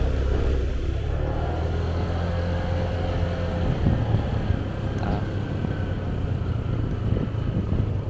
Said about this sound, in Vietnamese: sẽ đi xe máy và dẫn cô chú chị đi theo